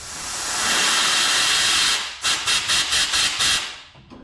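Air and carb cleaner blasted through a fuel line on a junk project truck's fuel system, a steady loud hiss for about two seconds, then a series of short sputtering bursts before it fades, with no talking.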